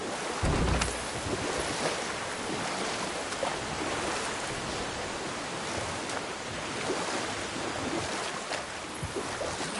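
Broad, steady roar of a huge waterfall in God of War, a continuous wash of rushing water filling the scene with a brief low rumble near the start, no voices.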